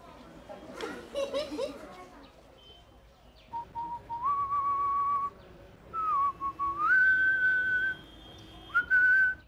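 A person whistles indoors in a house, a series of sustained, sliding tonal notes with pauses between phrases, preceded by a short burst of chatter and laughter at the start.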